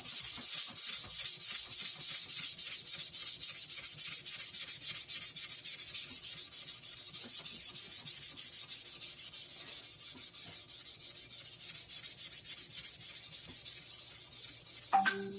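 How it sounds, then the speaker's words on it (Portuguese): Fine 600-grit sandpaper rubs steadily back and forth over shellacked wood, giving a close, continuous dry scratching hiss with no pauses or talk. "Agora vamos pegar uma lixa 600."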